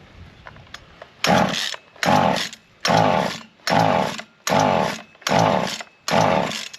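A small engine cranks briefly, then fires into seven loud, evenly spaced revving bursts with short gaps between them, each roaring up and cutting back, close by and with no talking.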